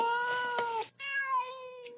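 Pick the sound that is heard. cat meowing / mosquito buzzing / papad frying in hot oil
cat meowing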